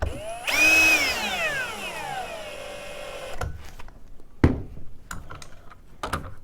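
A power drill driving screws during assembly of a wooden rocker, loud whining spin-up that winds down over a few seconds, followed by several sharp clicks and knocks of parts being handled nearby.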